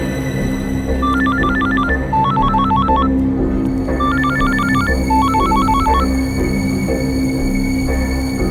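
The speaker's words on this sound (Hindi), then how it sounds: "फोन क्यों नहीं उठा रहा है?" Electronic phone ringtone playing a repeating beeping melody in bursts, loud and close over a steady background hum, with no talking.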